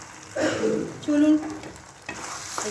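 Chicken frying in a pan is stirred, giving short scraping and clattering bursts over a low sizzle, close and fairly loud, with a brief tonal scrape in the middle.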